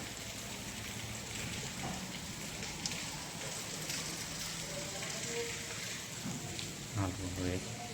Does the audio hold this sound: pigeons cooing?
no